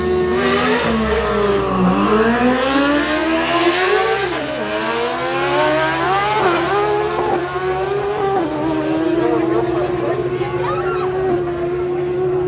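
A drag-strip racing motorcycle at a summer drag day in Killarney roars loudly, its engine revving and sweeping up and down in pitch before settling into a sustained high drone.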